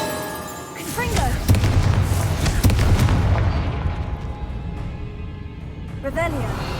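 A Confringo blasting spell explodes in Hogwarts Legacy, a heavy booming blast with rumbling low-end and crackling debris that swells and slowly decays, loud and close, with game sounds layered beneath.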